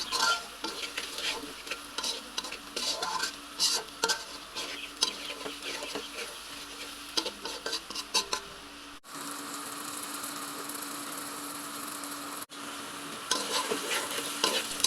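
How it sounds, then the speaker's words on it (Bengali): Egg fries in a pan with onion, green chili, turmeric and chili powder, giving a soft, steady sizzle broken by repeated scraping stirs of a utensil, fairly quiet and close, with no talking. "জাস্ট একটু হলুদের গুঁড়ো, মরিচের গুঁড়ো আর পেঁয়াজ, কাঁচামরিচ দিয়ে এটা একদম ভাজা ভাজা করে নিব"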